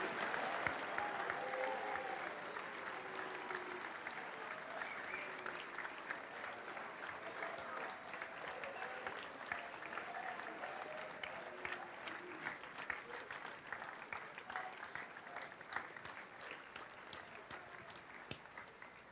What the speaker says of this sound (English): Can we now please give them a big round of applause?